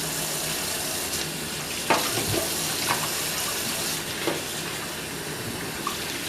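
Chicken gizzards rinsed under a running kitchen tap, a steady close hiss of flowing water with occasional small splashes and clinks as they are handled.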